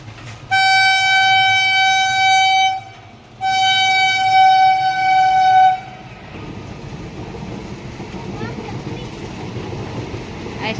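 A train sounds two long, loud horn blasts close by, then its wagons rumble and clatter past in a steady roar, with people talking nearby.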